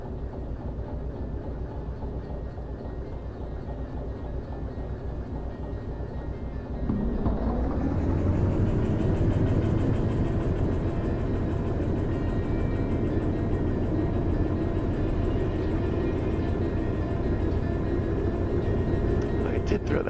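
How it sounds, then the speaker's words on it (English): A heavy loaded freight train rumbles in the Derail Valley railway game, a steady low drone that swells louder about a third of the way through and holds, with talk over it at times. "This train is a bit heavier now that it is loaded."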